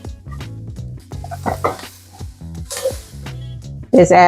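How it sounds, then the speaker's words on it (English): Plant-based chili ingredients sauté in a pot with a light sizzle, mixed with spoon scrapes and clinks against the pot and a brief spray sound, while background music plays. "I'm cooking this on so I can get this all sauteed in there."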